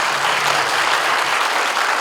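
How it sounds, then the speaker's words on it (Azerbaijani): Sustained applause from a crowd at a ceremony marking the fifth anniversary of the Victory in Absheron, steady dense clapping filling the whole moment, loud and close, with no voices over it. "Mən sizlərdən bu zəfərimizə bir alqış istəyirəm."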